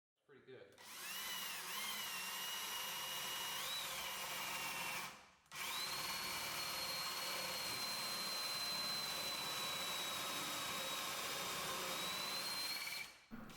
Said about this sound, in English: Remember not to drill all the way through with your paddle bit.